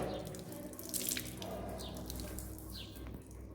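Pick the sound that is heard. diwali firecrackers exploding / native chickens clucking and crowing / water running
water running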